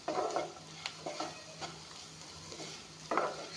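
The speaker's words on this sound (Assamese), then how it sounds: "পটলখিনি অলপমান ভাজি ল'ম" Pointed gourd pieces frying and being stirred in a pan, with a steady soft sizzle and a few brief louder scraping bursts from the stirring, close and unaccompanied by speech.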